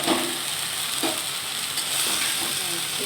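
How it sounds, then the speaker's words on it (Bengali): Eggplant slices frying in a pan, giving a steady bright sizzle with faint stirring scrapes under it, close by and fairly loud, with no voices. "তারপর একটু ভেজে দেবো।"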